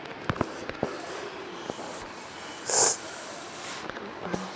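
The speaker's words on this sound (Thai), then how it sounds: "ก็ขอโทษนะครับที่มีเสียงรบกวนนะครับ เนื่องจากผมแค่ที่ตลาดนะฮะ" Busy market ambience: a constant noisy wash with scattered clicks and knocks, and a short rushing burst midway.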